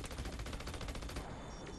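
Rapid minigun fire in the Battleborn video game, a dense, continuous burst of rattling shots at steady volume that cuts off abruptly, leaving a brief quiet tail.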